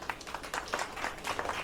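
Quiet audience applause during a speech at a Mumbai village gathering, a brief patter of distinct hand claps at a moderate distance.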